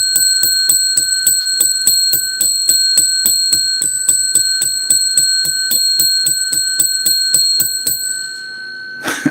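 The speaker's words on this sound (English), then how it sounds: "I got to ring the bell for you" A small bell is rung rapidly and repeatedly, about twenty bright, evenly spaced dings close and loud with a ringing tone, before stopping and leaving a brief quiet tail.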